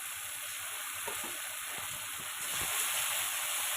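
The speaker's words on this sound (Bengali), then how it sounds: "এবার কড়াইতে তেল দিয়ে দিচ্ছি জিরে বাটা।" Cumin paste frying in hot oil in a wok, sizzling steadily and fairly close with a dense hiss that swells slightly near the end, with no talking.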